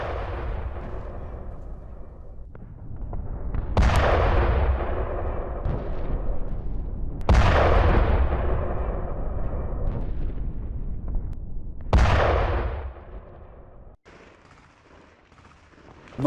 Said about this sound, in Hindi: इजराइल के बम कुछ इस तरह गाजा के बाकी बचे शहरों को बर्बाद कर रहे हैं।